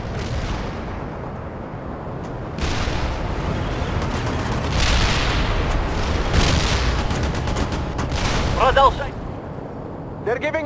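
A heavy artillery barrage rumbles in World in Conflict: Soviet Assault, with low booms and blasts layered into a continuous roar that builds midway, and a voice speaks near the end.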